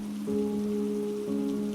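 Steady rain falls in an animated story scene, a continuous soft hiss accompanied by a low sustained hum, with no voices.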